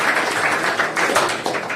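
Audience applause greets a maths teacher as he is welcomed onto the stage, a steady wash of many hands clapping together, fairly loud and close, sustained without pause for the whole short stretch.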